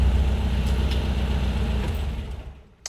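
A 1968 VW Type 3 squareback with an 1835cc engine idles with a steady, close, low rumble that fades slightly toward the end, followed by a brief click.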